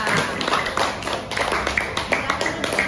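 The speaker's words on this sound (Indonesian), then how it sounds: "kasih tepuk tangan untuk kelompok 2" Schoolchildren in a classroom clap for a group of classmates, a quick, uneven string of sharp hand claps close by, rising and falling in loose rhythm.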